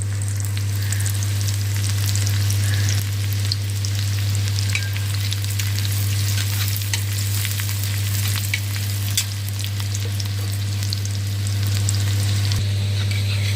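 Bread frying in a pan over a high flame for bread pizza, a steady loud sizzle and crackle running throughout with no voices.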